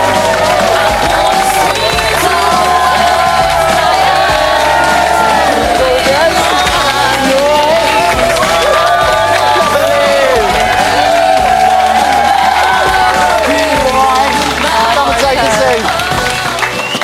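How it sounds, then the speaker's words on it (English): Loud studio audience cheering, whoops and sustained applause greeting an evicted Celebrity Big Brother UK contestant, with hubbub and a presenter's voice over the top. "Give her another round of applause"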